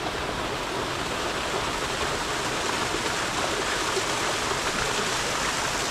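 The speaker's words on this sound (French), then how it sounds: "Petite cascade bien cachée." A small hidden waterfall beside a canal pours in a steady, even rush of white water, continuous and fairly close, with no voices over it.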